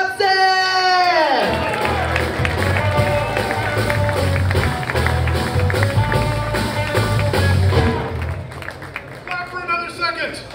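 A comedy club crowd cheers and whoops for Spencer Dobson, loud and dense, with a voice rising over the start and the noise carrying on as a sustained roar before tapering off near the end.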